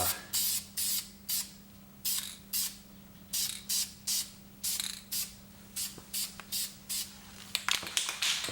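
Short, even bursts of spray paint hiss in a steady rhythm, about a dozen light passes laying a dust coat onto Camaro brake parts, with a faint constant hum underneath.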